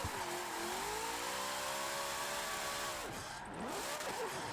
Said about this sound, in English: But see what I mean by the car's really quick